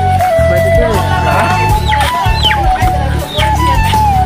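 Chickens cluck and squawk repeatedly at a busy poultry market, close and loud, with people talking and bargaining over them throughout.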